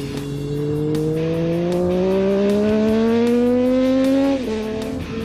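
Benelli Tornado 898cc three-cylinder motorcycle accelerating, the engine note climbing steadily in pitch as it revs hard, then dropping sharply at a gear change, loud and close.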